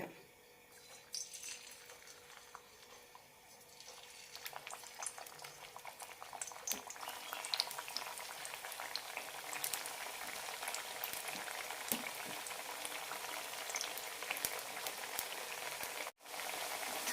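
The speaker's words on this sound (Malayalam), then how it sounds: "ഇപ്പം തന്നെ വറുത്തെടുക്കാം എണ്ണ ചൂടായിട്ടുണ്ട് ഓരോന്നായി" Carrot pieces frying in hot oil with a steady, close sizzle and bubbling that continues throughout without any talk.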